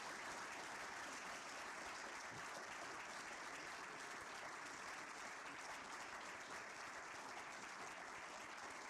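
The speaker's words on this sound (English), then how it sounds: "give a big round of applause No Water, No Village" Steady, continuous audience applause filling a hall at a sustainability film awards ceremony, dense even clapping throughout at a constant level with no speech.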